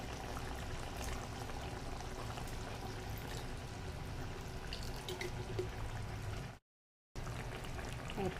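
Vinegar poured into chicken adobo cooking with oyster sauce, a steady liquid splash and trickle over sizzling food, fairly close, broken by a brief silent gap near the end.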